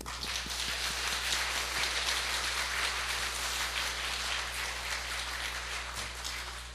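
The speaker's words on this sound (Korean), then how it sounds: "우리 박수 한번" Church congregation applauding during a thanksgiving service, a steady even patter of many hands clapping at moderate level over a low constant hum, with no speech.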